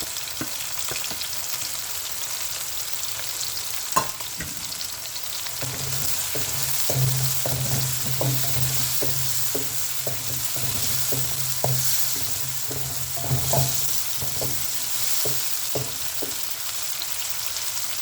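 Curry leaves sizzle and crackle in hot oil in a pan while being stirred for a parrot fish masala, a steady frying hiss broken by repeated scraping stir strokes and a denser, louder crackle midway.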